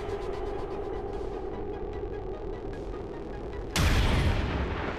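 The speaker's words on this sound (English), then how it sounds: "they're gonna get met by a series of gunshots here." A single sharp gunshot cuts in about four seconds in, loud and booming, after a stretch of steady rumbling game ambience in XCOM 2: War of the Chosen.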